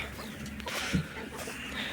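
Hens cluck softly nearby amid a low rustling background, with one brief louder cluck in the middle.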